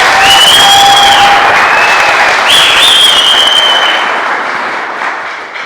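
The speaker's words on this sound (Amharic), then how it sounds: "ከዛ ለሁሉ የዩኒቨርሳል ሰራተኛ ዛሬ እዚህ ጋር ያሉ ከኛ ጋር ማይሆኑም ትልቅ ጭብጨባ ሞቅ በላችሁ።" A crowd at a factory's 30th anniversary celebration gives loud, sustained applause for the Universal Plastic Factory workers, a dense wash of clapping that fades slightly toward the end.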